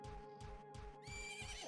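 A horse in Majora's Mask 3DS gives a loud, close whinny over rhythmic pulsing hoofbeats, the neigh rising sharply in the final half.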